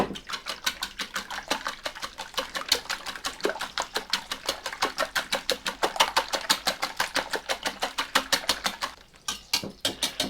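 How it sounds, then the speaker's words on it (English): Eggs are whisked in a bowl with fast, even ticking strokes, a quick steady rhythm of light taps heard up close for about nine seconds before it stops abruptly. "And then whisk them up."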